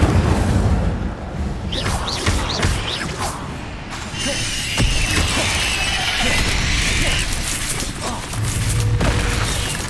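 Incendio fire spell cast in Hogwarts Legacy on PS5, a burst of whooshing flame and crackling impacts mixed with other spell effects and thuds, loud and busy across the whole stretch.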